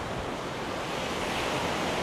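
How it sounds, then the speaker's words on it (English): Waves breaking on a North Sea beach at Cambois, Northumberland, a steady wash of surf with wind, continuous and moderately loud with no voices. "it's lovely just hearing the sound of the waves"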